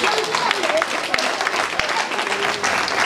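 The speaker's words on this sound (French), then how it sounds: "Applaudissez." An audience applauds at a company ceremony honouring medalled staff on May Day. The clapping is dense and steady throughout, with voices carrying over the crowd.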